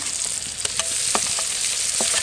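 Dried chili and whole cumin paste go into a sizzling tomato gravy, cooked outdoors at a winter picnic alongside mutton curry. A steady, close frying hiss runs throughout, with brief stirring scrapes and clatters.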